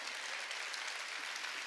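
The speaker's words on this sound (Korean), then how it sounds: "박수로 하나님께 영광 돌려" Church congregation at a Wednesday worship service applauding together, a steady wash of many hands clapping at moderate volume for under two seconds, with no voices over it.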